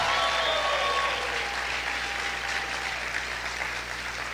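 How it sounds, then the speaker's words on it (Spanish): A church congregation applauds and shouts during a sermon, a loud dense wash of clapping and raised voices that gradually thins and softens toward the end. "grite y aplaude fuerte al Señor"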